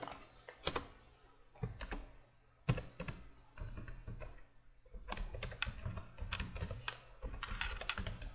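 Someone types HTML code on a computer keyboard, producing steady rapid key clatter with brief pauses and a few sharper keystrokes, close and moderately quiet.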